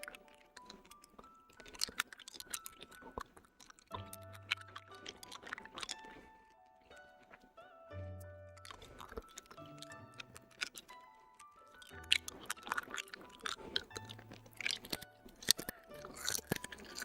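Candy canes being crunched and chewed up close in a quiet setting, with repeated sharp brittle cracks and grinding bites in irregular bursts, alone without talk.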